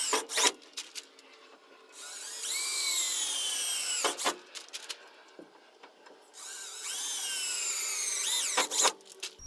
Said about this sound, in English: I'm pre-drilling that mark with an 1/8 inch drill bit first